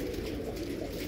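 Tippler pigeons coo in a low, steady burble, close by and continuous, with no talking.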